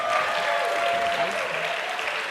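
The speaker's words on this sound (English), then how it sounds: "please give a big round of applause to a very, very interesting person, Kathy Levinson" A summit audience gives Kathy Levinson a round of applause, a dense, loud wash of many clapping hands sustained evenly from start to finish.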